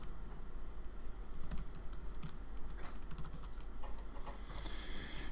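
Steady typing on a computer keyboard, dense fast key clicks in an uneven patter with no voices, fairly close and moderately quiet.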